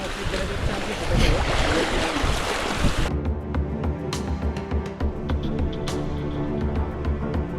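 Monsoon trekkers wade through a stream crossing on the Lingya Ghat trail. A loud rush of water fills the first seconds, then gives way to quieter splashing and sloshing steps, with faint voices nearby.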